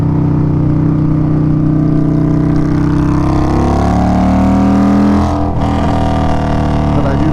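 An Indian Scout motorcycle engine revs hard toward about 8,000 RPM, a loud, close, sustained rising drone that drops off sharply near the end, with no talk over it.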